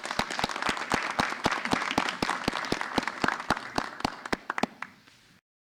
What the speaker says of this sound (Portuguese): Salve de palmas para Gabi Farias, por favor.